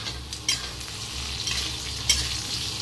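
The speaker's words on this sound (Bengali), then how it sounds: "তো আলুগুলোকে ঢেকে ঢেকে ভেজে নিচ্ছি।" Potatoes fry under a lid in a pan for a Bengali fish curry, a steady close sizzle broken by a few louder clattering stirs or lid bumps.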